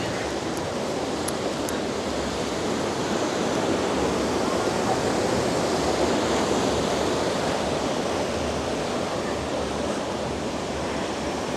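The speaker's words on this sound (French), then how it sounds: "la cascade qu'on va aller voir de plus près." Constant, dense roar of rushing water from a waterfall near Cat Cat village in Sapa, Vietnam, steady and loud throughout, with no pauses or voices.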